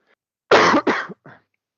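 Two quick harsh coughs close to the microphone, followed by a short, softer throat clearing.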